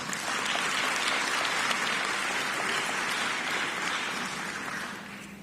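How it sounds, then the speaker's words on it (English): Audience applause at the African Renaissance Conference, a full, steady round of clapping from a large crowd that holds evenly and then begins to taper off at the end. "Let's give him a round of applause."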